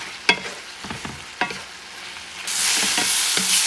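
Shrimp sandwich filling cooking in a pan, with sharp stirring clicks and scrapes over a steady frying hiss that swells louder partway through.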